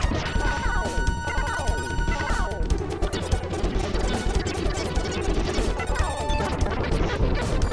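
A grenade blows up in the SNES game Contra III: The Alien Wars. Loud crashing blasts sit in a dense, continuous wash of game noise, with descending laser-like tones and gunfire clatter.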